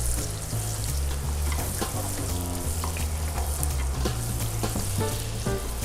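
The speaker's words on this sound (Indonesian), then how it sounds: "Ditumis sampai berwarna kuning, sampai harum baunya." Onions being sautéed in hot oil for Bangka-style tekwan broth, a steady loud sizzle and crackle with occasional stirring scrapes, continuous and close throughout, no talking.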